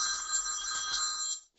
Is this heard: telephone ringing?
yes